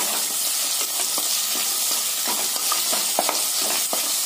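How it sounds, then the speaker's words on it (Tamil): Small onions sauté in hot oil for mutton keema, a continuous dense sizzle and crackle with light scraping of a spoon against the pan throughout. "வெங்காயம் எல்லாம் இந்த மாதிரி நல்லா வதக்கணுங்க."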